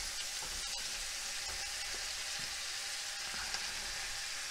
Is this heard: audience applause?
no